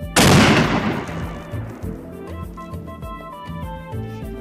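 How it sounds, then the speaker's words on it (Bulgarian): A single loud gunshot from a chamois hunt cracks sharply near the start, then decays into a long rolling echo over a steady tonal background. "Скоро проехтя изстрел"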